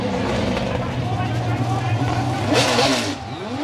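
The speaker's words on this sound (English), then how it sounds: "Let's just listen to the car go." Toyota Altezza drift car with a Mopar V8 revving hard at a Formula Drift Japan event, a loud sustained engine roar with swelling pitch, under an announcer talking.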